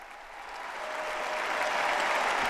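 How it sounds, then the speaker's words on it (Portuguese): Warm applause from a large congregation at a papal Mass in Marseille swells steadily and holds as a dense, continuous roar with no voices over it. "Realmente, calorosos aplausos"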